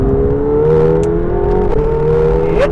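A McLaren 720S with a mid-mounted twin-turbo V8 hums at steady revs with a loud, even drone and a slight pitch change near the end, no voices over it.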